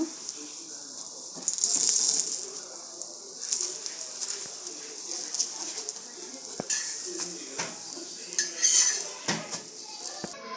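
A chapati cooks in a little oil on a pan, with soft sizzling under clinking utensils and scraping as it is turned, no speech over it.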